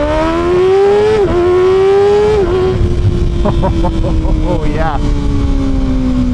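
A Kawasaki Ninja ZX6R 636 motorcycle accelerates onto a highway, its engine note climbing through gears with rising and falling pitch, loud and close, with a brief spoken remark over it.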